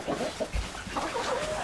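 Chickens cluck softly in short, close bursts, with faint rustling in the background.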